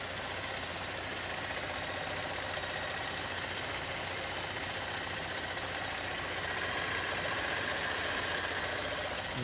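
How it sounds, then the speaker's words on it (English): A 2010 Buick LaCrosse with a 3.0-liter V6 and automatic transmission idles quietly and steadily, a soft even engine hum with no voices. "We do have it running here today at Lews with a V6 engine."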